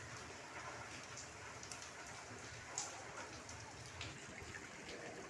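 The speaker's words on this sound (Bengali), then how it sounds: "বৃষ্টিটা একটু কমেছে।" Easing rain heard from a home during a storm, a faint steady patter and drip with occasional sharper drops, quiet and even throughout.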